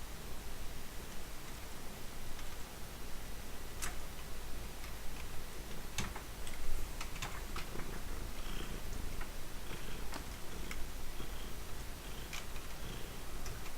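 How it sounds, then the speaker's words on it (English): A pet cat purring while playing: a steady, close, low rumble runs throughout, dotted with small irregular clicks and taps, with no voices. "The strange sound that you might be hearing right now is my cat, who decided to play a little with us."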